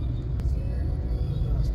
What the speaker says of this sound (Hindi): वापस इधर देखिए फिर से ट्रैफिक जाम